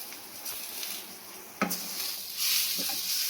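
Gobindobhog rice with cashews and raisins frying in a pot: a soft steady sizzle with scraping stirs and a sharp clink of a utensil against the pot, growing brighter and louder toward the end.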